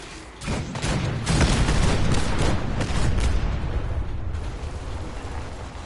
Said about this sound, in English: Soldier, man the cannons. Kill them only as a last resort. A few warning shots.